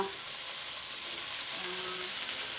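Okra fries in a pan with a dense, steady sizzle and hiss, close and even throughout, with faint stirring underneath.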